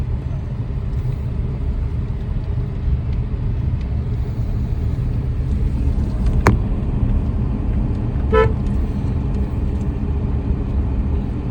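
Car driving along a quiet country road past farmland, with an oncoming vehicle approaching; a steady low engine and road rumble runs throughout, with a couple of brief higher sounds partway through and no talk.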